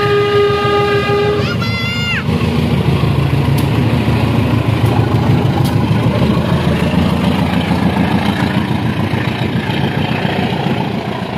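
At Cibatu depot in Garut, the Serayu passenger train blasts its horn briefly before passing close by with a loud, sustained rumble and clatter of wheels and wagons.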